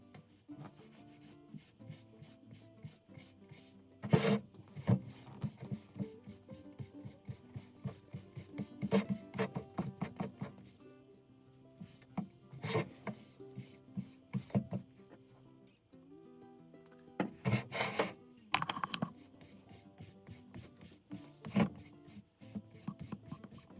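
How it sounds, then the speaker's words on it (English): Buttercream wax is rubbed by hand over a painted thrift-store pumpkin porch sign to seal the paint, giving quiet, irregular scrubbing strokes with soft bursts of friction and brief pauses. "I'm using this buttercream wax just to seal in the paint"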